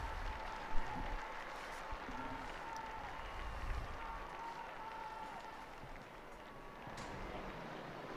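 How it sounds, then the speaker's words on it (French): A crowd applauding Pope Francis at the Angelus, heard as faint, distant, continuous clapping with a steady wash of crowd noise and no clear voices. "le pape fait son apparition saluant la foule qui lui répond par des applaudissements"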